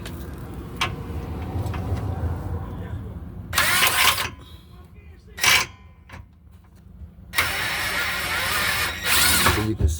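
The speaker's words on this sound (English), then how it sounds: "I'm gonna actually use my impact to get this out." An impact wrench backs out a lower control arm bolt on a 2019 Infiniti QX60 3.5L, with three loud rattling bursts of a few seconds each separated by quieter pauses and shop noise.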